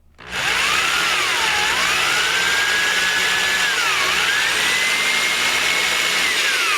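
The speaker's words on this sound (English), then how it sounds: "so you can see that I've drilled into it some" A power drill bores into wood for a small desktop project, such as an incense burner or letter holder. After a brief start it makes a loud, sustained whine that wavers in pitch as the load changes.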